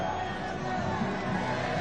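A packed crowd of Real Madrid supporters at the Santiago Bernabeu welcomes new signing Ferland Mendy during his presentation, a steady, distant roar of massed voices and chatter with no clear peaks.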